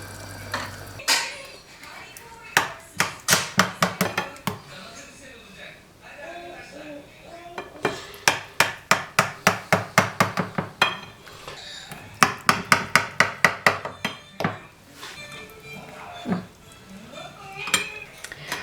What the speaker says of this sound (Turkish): Ama ben iki kaşık erik ekşisi koyacağım arkadaşlar. 1 ve 2 şöyle karıştıracağım.